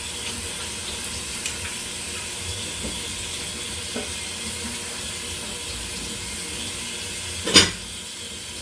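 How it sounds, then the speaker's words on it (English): Tap water runs steadily into a kitchen sink while hands are rinsed during brownie cookie baking, a constant hiss with a brief louder splash near the end. "We're gonna rinse my hands."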